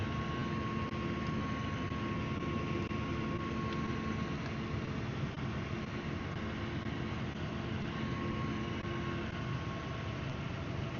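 A new tractor drives a disc bine cutting a first hay field, a steady, unbroken engine and machinery drone with a faint whine, constant in level throughout.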